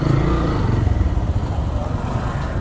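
A motorcycle passes on the road with a fairly close, low engine rumble and a rattling putter. The sound holds steady and then eases slightly over a couple of seconds.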